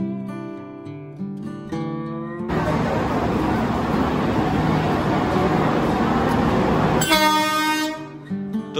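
A loud, sustained train horn blares for several seconds amid station noise at Sealdah railway station, Kolkata, while awaiting the Padatik Express, with tonal sounds just before and after.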